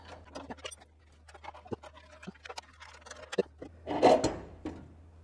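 A turbo is unbolted from underneath a Mk1 Caddy 20v turbo project car: sparse, quiet metallic clicks and clunks of tools against bolts, with a brief louder rattle near the end.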